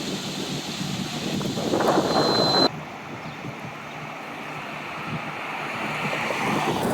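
Wind buffets a boat cruising on open water, with a steady rush of waves and surf and gusty noise hitting the microphone, loud and continuous, and no voices.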